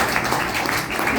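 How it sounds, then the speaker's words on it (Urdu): An audience at a speech competition held for Iqbal Day gives a short burst of dense, continuous applause. The clapping is steady and fairly close. "آپ لوگ تالیاں بجائیے."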